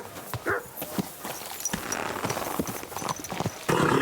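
A horse walks in the video game Kingdom Come: Deliverance II, its hooves clip-clopping in a loose, uneven rhythm close by, with softer background ambience and a louder stretch of noise in the final half second.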